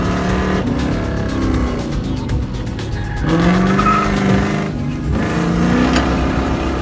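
A Firebird race car roars at high revs nearby on a track, wheel hopping, its engine note rising and shifting through gears with a steady, loud, buzzing drone.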